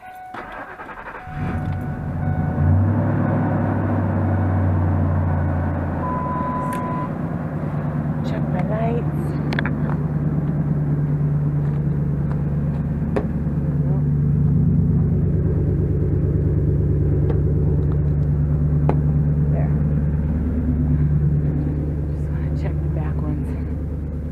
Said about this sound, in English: just want to start the truck up and check the lights